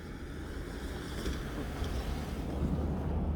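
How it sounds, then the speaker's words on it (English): A truck passes on a road during an outdoor walk, a steady low rumble that builds gently over a few seconds, mixed with wind noise and no talk. "Oh, a truck went by."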